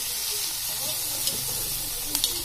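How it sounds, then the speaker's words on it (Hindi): Vegetables and onions sauté in a kadai for pizza toppings, giving a soft, steady sizzle with occasional light clinks of a spoon stirring, close and continuous. "और सब्जियों का थोड़ा सा मैं सौटे कर रही हूँ ताकि सब्जियाँ कच्ची कच्ची ना लगे"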